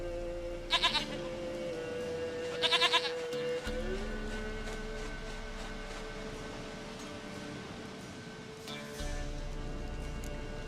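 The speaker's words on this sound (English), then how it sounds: "Goat of mine, dearest, sweetest goat." Goat bleating in The Witcher 3, two short wavering bleats near the start over a steady ambient game hum with a faint music drone, then a quieter third call near the end.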